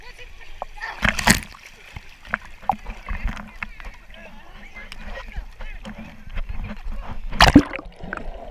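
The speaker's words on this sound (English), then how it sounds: "Don't splash me, you'll lose." Water splashes in a Florida swimming pool in sharp, close bursts at the start and end, with lighter sloshing between, while people talk and call out throughout.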